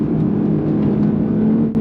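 A Porsche 911 Turbo S pulls hard in third gear on a track, its engine a loud, steady, close rumbling drone that holds high revs without pause.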